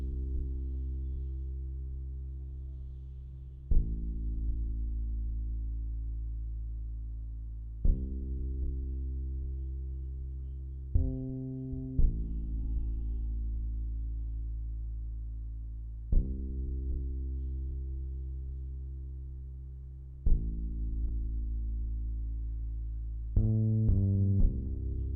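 A soft synth bass from the Trillion plugin in a lofi beat plays long, warm sustained low notes, each starting with a gentle pluck and slowly fading, spaced a few seconds apart, with a quicker run of notes near the end.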